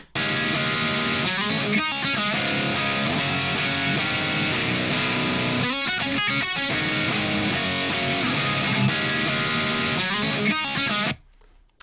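A thick, distorted DI electric guitar riff through the Amped ICON amp simulator chugs steadily with sustained, crunchy amp tone for about eleven seconds before cutting off abruptly.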